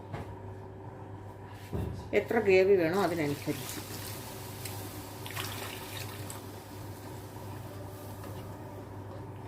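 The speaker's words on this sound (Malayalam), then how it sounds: "ചൂടുവെള്ളമാണ് ഞാൻ ചേർക്കുന്നത്" Hot water poured into a Kerala-style salmon curry made with kudampuli, a brief splashing pour of a second or so amid quiet kitchen background while a person talks.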